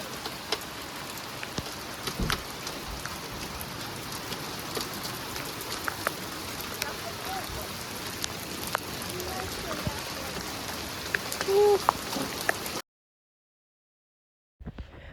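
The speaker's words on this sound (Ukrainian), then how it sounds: "И пошел ливеняка и град." Heavy rain mixed with hail pours down during an outdoor barbecue outing, a steady close patter of drops that runs for about thirteen seconds, then cuts to silence.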